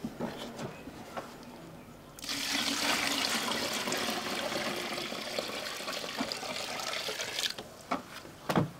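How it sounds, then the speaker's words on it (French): Water poured steadily into a container for mixing a biofertilizer from fresh manure in Trarza, Mauritania, a broad splashing wash lasting several seconds, with quieter handling noises before and after. "Donc nous allons verser cette eau."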